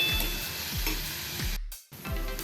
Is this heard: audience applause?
no